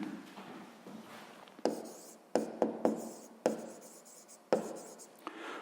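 Pen writing on paper during a sixth-grade maths exercise, heard as soft scratchy strokes in short bursts with sharper taps between them, close and fairly quiet, with no talking.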